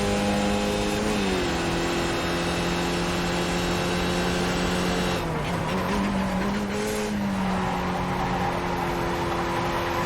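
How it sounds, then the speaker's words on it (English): A race car engine in a racing video game, held at high revs with a steady droning whine that dips and climbs as it shifts, accompanied by brief tire-scrubbing noise, loud and continuous. "You need to quit revving that engine so high or it'll kill the engine."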